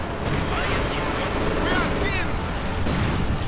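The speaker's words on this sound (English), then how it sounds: "Katyusha bombarding." Katyusha rocket artillery bombardment in the Company of Heroes 2 battle, a dense continuous rumble of launches and explosions with whistling rocket streaks, steady and loud under a commentator's voice.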